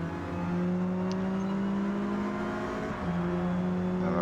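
A racing Alpine A110 in Forza Motorsport at Virginia Raceway, its engine droning hard at a steady high pitch down a straight, dipping briefly around a gear change before pulling on again.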